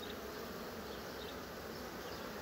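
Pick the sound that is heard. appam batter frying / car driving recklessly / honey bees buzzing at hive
honey bees buzzing at hive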